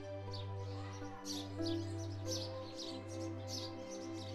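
Bright house sparrow chirps repeat in short bursts over a steady low electrical hum, fairly close and lively.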